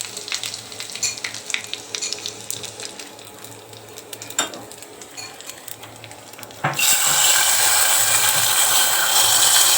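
Cumin, coriander seeds, cardamom, cloves and curry leaves hit hot oil for a dal tempering, bursting into a loud, steady sizzle about two-thirds through after quieter kitchen clatter and stirring.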